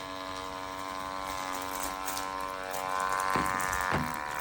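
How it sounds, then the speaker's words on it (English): An ENERHAMP kids' instant print camera prints a photo with a steady, close mechanical whirring hum, and two brief clicks come near the end. "Wait for the printing."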